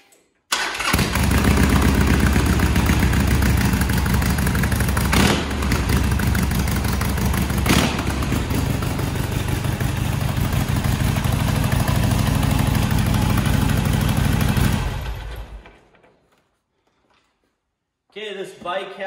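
A fuel-injected 2007 Sportster 883 motorcycle engine cranks and fires, then settles into a loud, close, lumpy idle that runs steadily for about fifteen seconds before cutting off, with a brief noise afterward.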